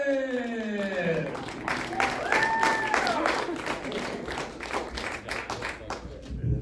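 Comedy club audience applause: steady, close clapping from a full crowd that swells and lingers, with a host's voice calling over it and faint cheers mixed in.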